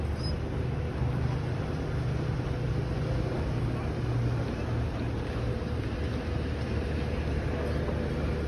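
A boat out on blue open water, with a steady low engine drone and wash of wind and water running evenly throughout, moderately loud and unbroken, with no speech.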